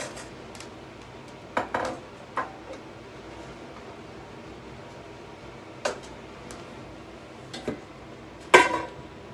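Carrots go into a pot of pork bone soup with a handful of sharp clinks and light knocks against the metal, spaced out over a quiet kitchen background.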